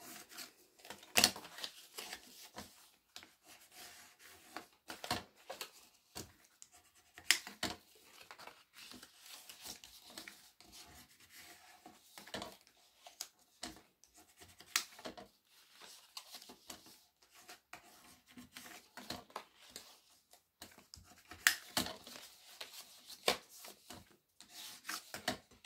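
Bone folder rubbing and creasing folds in card stock for an easel card, a long run of faint scraping strokes and small taps, close and quiet, no talk.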